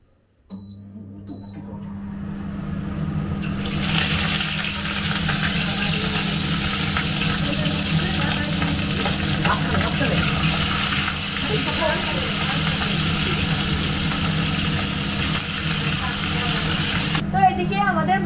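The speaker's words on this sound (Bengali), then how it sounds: "কড়াইটা খুব গরম হয়ে গেছে, এবার মাছগুলো আস্তে আস্তে ছেড়ে দেবো" Fish frying in oil in a very hot wok, a steady dense sizzle that runs almost continuously after a quieter opening, with a low steady hum underneath and faint kitchen clatter.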